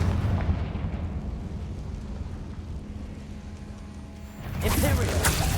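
A Confringo spell explosion in a video game gives a heavy rumbling blast that eases off, then a second sharp burst erupts near the end.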